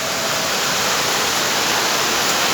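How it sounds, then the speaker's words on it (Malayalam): Heavy monsoon rain pours down steadily, a dense, even hiss with no breaks across the whole moment, loud and close as the downpour intensifies. "ഇപ്പോൾ പിന്നെ നല്ല മഴ കൂടിയിട്ടുണ്ട്"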